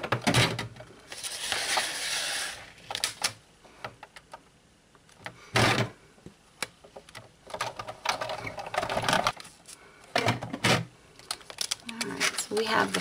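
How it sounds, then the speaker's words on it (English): A Big Shot die-cutting machine cutting paper, with a run of close mechanical clicks, cranking rattles and thumps, while a person talks over much of it. "I'm going to put it in my Big Shot and I'm going to cut that out."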